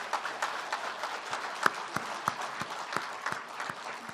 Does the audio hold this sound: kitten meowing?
no